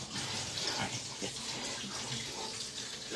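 Tap water runs into a sink while a tie-dye shirt is rinsed and dye washes out, a steady gushing splash with some sloshing and shifting as the fabric is moved, close up, with no talking.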